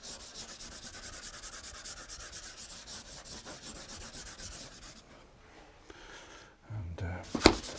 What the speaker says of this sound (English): And let's just rub that in.